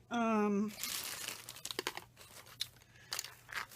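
Plastic ribbon bags crinkle and rustle as they are handled up close, with bursts of crumpling and a brief voice at the start.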